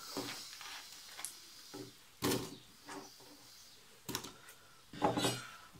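Quartered vegetables drop into a cooking pot with a few quiet, separate clunks and clatters, spaced irregularly against a hushed kitchen background.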